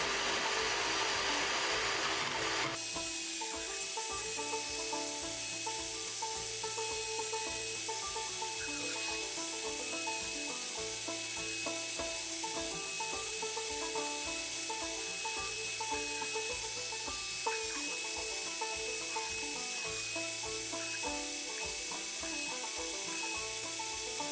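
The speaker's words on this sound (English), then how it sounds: "Again, we cut on the outside of the line." Knife sheath pieces are cut out along a marked line, a continuous rough rasping and grinding that runs steadily for over twenty seconds with no talking.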